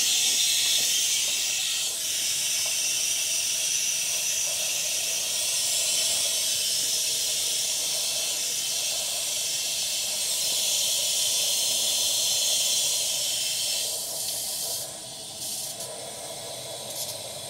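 A well water pressure system served by a Pentair Intellidrive constant pressure control drains down with a continuous loud hiss of rushing water that holds steady, then drops slightly in level toward the end.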